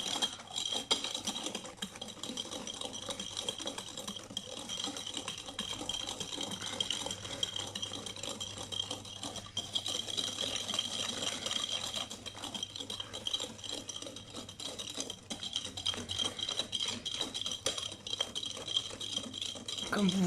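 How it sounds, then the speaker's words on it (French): Eggs and sugar being mixed in a bowl for a chocolate moelleux, giving a steady, continuous rattling whisk-and-scrape texture at close range with no talk. "Faut pas oublier de mélanger en même temps les œufs et le sucre."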